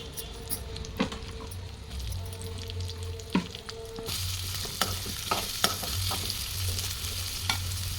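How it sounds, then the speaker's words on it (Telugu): Cashews, peanuts and onions fry in a pan with a steady sizzle, and a spoon scrapes and stirs them at intervals, close up. The sizzle rises noticeably partway through. "కాజుని, పల్లీని రెండింటిని యాడ్ చేసి ఇవి కూడా కొద్దిగా గోల్డెన్ బ్రౌనిష్ కలర్ వచ్చేదాకా ఆనియన్స్"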